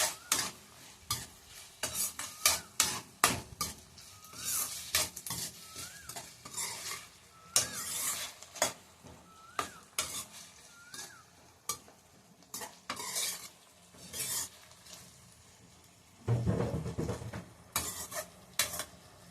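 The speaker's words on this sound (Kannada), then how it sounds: "ಟೊಮೊಟೊ ಸಾಫ್ಟಾಗಿ ಆಗೋವರೆಗೂ ನಾವು ಬೇಯಿಸ್ಕೋಬೇಕು" Tomatoes with salt cooking for vangibath, stirred in a pan with repeated scraping strokes and spoon clinks against the metal over a gentle sizzle, close and busy throughout, with no speech.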